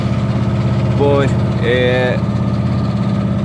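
A sailboat's engine runs at half throttle with a steady low mechanical drone under a man's nearby speech.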